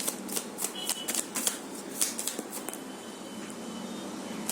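Tarot cards shuffled and drawn by hand, a burst of rapid crisp riffling flicks up close followed by softer sliding card sounds fading off.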